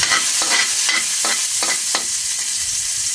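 Garlic sautéing in a hot pan, a loud bright sizzle that runs throughout, with a series of rhythmic scraping strokes from stirring about every third of a second, close up, without speech.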